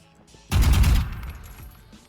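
A short burst of rifle fire from the Vandal in the shooter game Valorant: a few rapid, loud shots packed into about half a second, then a fading echo tail, with no talk.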